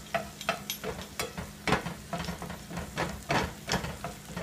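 Butter and flour sizzle in a pan as they are stirred into a roux for SOS with chorizo and eggs, giving a steady frying hiss broken by rhythmic scraping strokes of the utensil.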